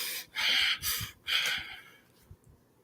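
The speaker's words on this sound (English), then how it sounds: "I want to blow my nose on camera" Two forceful, noisy nose blows in quick succession, close by, followed by a few softer sniffs and quiet rustling.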